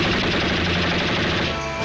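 A cartoon duck fires a rapid, continuous burst of loud machine-gun-style gunfire in a Woody Woodpecker hunting scene. The dense rattle lasts almost two seconds, with no talk.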